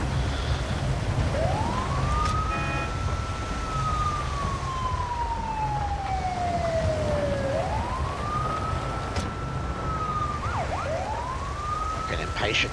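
A wailing ambulance siren from the game GTA 5 with the LSPDFR mod, set on a wet early-morning patrol, sweeps slowly up and down in long cycles and then briefly yelps, loud and continuous over a low rumble of rain and engine.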